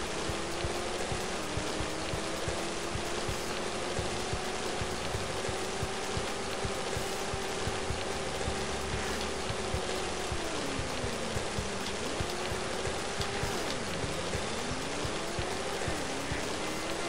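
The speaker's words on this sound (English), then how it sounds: "Why does it have to be raining?" Steady rain in the video game Driver hissing evenly, a constant wash of falling drops with faint tonal hum underneath, no voices.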